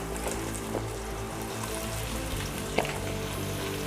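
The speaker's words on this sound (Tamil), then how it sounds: "இப்போது வெங்காயம் நல்லா பொன்னிறமாக வதங்குற வரைக்கும் நீங்கள் வதக்கிட்டு இருங்க" Four sliced large onions fry in a pan for idiyappam biryani, giving a steady, close hiss of sizzling with a few faint clinks.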